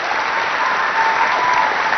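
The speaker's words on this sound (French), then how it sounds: "faites-le savoir en applaudissant bien fort" Groups of children at a Christmas special on Télé Tchad applaud loudly, a dense sustained clatter of clapping filling the whole short moment.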